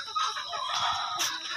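Fayoumi laying hens on a farm cluck and call close by in a busy, overlapping chorus, with one louder squawk near the end and no voices.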